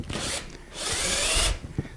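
A power drill bores into a wooden bowl blank destined for the lathe, sounding in two loud, close whining bursts separated by a short pause, then trailing off into faint knocks.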